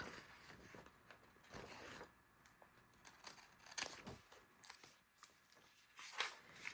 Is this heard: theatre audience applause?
no